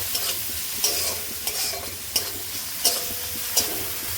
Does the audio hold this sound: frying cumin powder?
yes